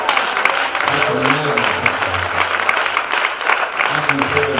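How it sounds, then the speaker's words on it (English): Congregation clapping hands during a Sunday morning church worship service, a steady dense patter of applause running throughout with voices and sung or spoken tones underneath. "I can clap my hands."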